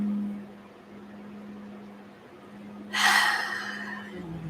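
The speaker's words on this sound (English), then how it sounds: "Take a deep breath right now." One deep breath is drawn in near the end, a short loud airy inhale over a quiet room hum.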